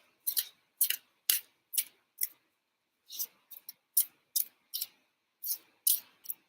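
A deck of tarot cards being shuffled, a run of crisp, close riffling bursts in irregular clusters with short pauses between them.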